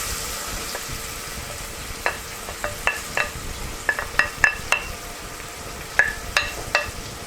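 Onions frying in a pan with powdered spices for a simple curry, a soft steady sizzle broken by a run of sharp scraping and tapping strokes from a stirring utensil, close by.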